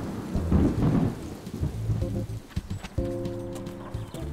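A thunderstorm rumbles low and heavy beneath the steady hiss of rain, with a few sharp cracks and a faint tonal hum joining in toward the end.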